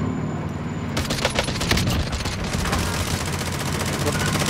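Gunfire in a video game rattles out as rapid bursts of close shots, starting about a second in and continuing steadily after, with a voice talking underneath.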